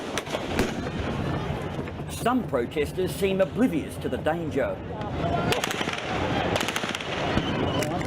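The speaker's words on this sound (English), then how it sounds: "With gunshots comes pandemonium." Sharp bangs and cracks of gunfire burst out amid a crowd's shouting at a 2014 anti-government protest in Thailand facing police, with someone speaking over the chaos.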